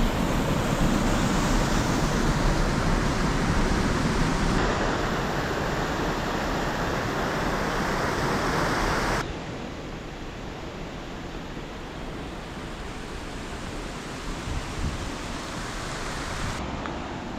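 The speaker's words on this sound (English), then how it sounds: "a small water flow." A small flow of water at a hot spring park gives a continuous broadband rush, louder at first and then dropping to a steadier, softer wash with no voices.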